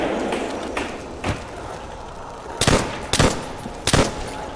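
M1 Garand rifle shots in Call of Duty World at War Zombies: three loud, sharp cracks spaced about a second apart near the end, after fainter earlier shots over a steady background hum.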